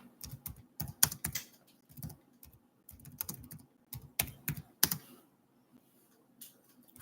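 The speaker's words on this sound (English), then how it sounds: "let me type in here" Bursts of typing on a computer keyboard, close, crisp key clicks in quick irregular clusters separated by short pauses, fading to sparse taps near the end.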